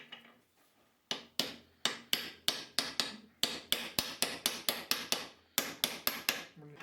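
A socket head being hammered onto the rounded-off, turned-down flats of a stuck bolt: about twenty sharp, loud metallic hammer blows at a quick, uneven rhythm after a brief quiet start.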